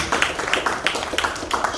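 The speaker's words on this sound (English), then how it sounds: "Really great round of applause for Farida." Clapping for Farida at a live event, a short run of close, evenly spaced claps in a steady rhythm with no voices over them.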